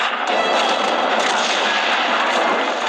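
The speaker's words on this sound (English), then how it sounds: "Ground units are taking heavy fire." Heavy gunfire in the shooter game Gears of War, a dense, continuous roar of rapid shots and blasts, loud and close with no pause across the short stretch.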